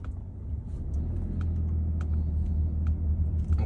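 A Peugeot 3008 II with the 1.2 PureTech 130 hp engine accelerates on a road test, giving a steady low engine and road rumble heard from inside the car, with a few faint clicks and taps.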